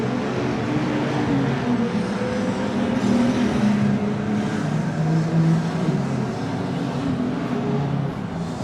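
Stock cars race in a heat on the Oceanview track, a continuous blend of engine drone and passing cars holding at a steady level with no one talking.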